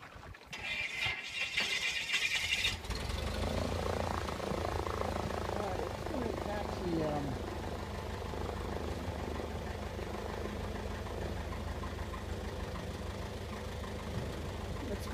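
Floatplane engine at George Lake, Alaska, starting up with a rough initial clatter before settling into a steady, loud droning hum that continues throughout.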